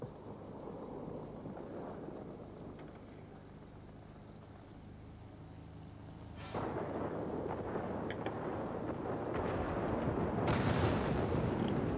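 A Skua dive bomber in the aerial combat game World of Warplanes drones steadily, then its bomb bursts in a sudden broad blast followed by a rumbling roar and a second swell near the end.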